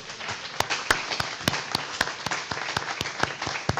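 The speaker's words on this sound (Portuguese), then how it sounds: "Dê um aplauso ao Senhor." Church congregation applauding during a service, a sparse, steady run of sharp individual claps over a soft wash of background clapping, fairly close and even throughout.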